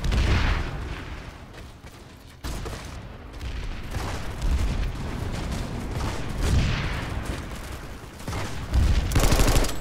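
Constant gunfire in the online shooter Planetside 2, with dense overlapping bursts and sharp shots over a steady roar of battle for the whole stretch, growing louder near the end, with no voices.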